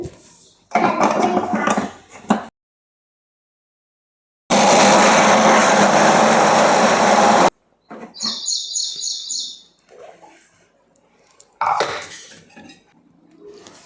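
A kitchen mixer grinder grinding garlic and cumin seeds, running in two loud, harsh whirring bursts of a couple of seconds each, with quieter clinks and handling noises between and after them.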